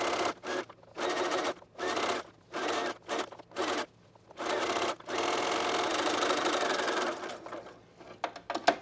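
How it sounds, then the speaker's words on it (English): A sewing machine bastes two raw edges of a dress together at a quarter-inch seam allowance, running in short close bursts with brief pauses, then in one long steady stretch. "Now we'll baste these two raw edges together, and we'll do so with a 1/4 inch seam allowance."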